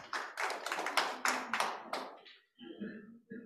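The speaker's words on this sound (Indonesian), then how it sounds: "Tepuk tangan dulu buat Tuhan kita." Church congregation clapping hands in worship, a burst of many overlapping claps that fades out, then resumes briefly after a short pause.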